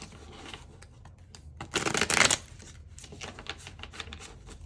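Tarot cards being handled and shuffled, soft rapid flicking and riffling with one louder dense riffle burst in the middle, close and quiet, no voices.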